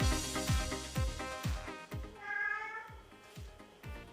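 A cat meows over a steady, rhythmic thumping beat that pulses about twice a second; the meow is fairly clear and close, with no talking.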